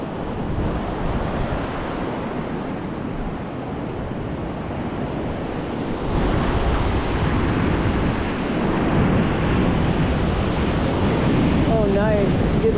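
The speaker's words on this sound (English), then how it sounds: "if I listen to these waves while I'm sitting, I'll fall asleep" Ocean surf washing in steadily on a summer solstice outing, a continuous broadband rush that swells louder midway and stays full and close, with no talk over it.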